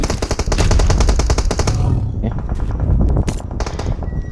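Gunfire in PUBG Mobile, a loud rapid burst of close automatic shots for about two seconds, then a few scattered single shots while a voice talks over the action.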